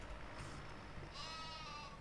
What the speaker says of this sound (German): Ausgewachsenes Schaf, ne? Stimme vom Lamm.